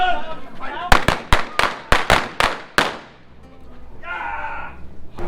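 Gunshots ring out in an OK Corral gunfight reenactment in Tombstone, Arizona: about eight sharp, loud cracks in quick irregular succession, with shouting voices before and after.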